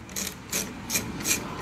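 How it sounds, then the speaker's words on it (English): A socket is turned on a Glock sight pusher tool, making four short, close rasping clicks in an even rhythm, with no talk. "I'm going to use my socket to back that out a little bit"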